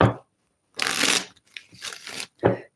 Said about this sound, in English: Okay, shuffle these good.